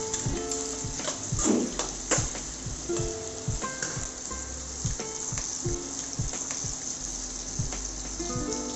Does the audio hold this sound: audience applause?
no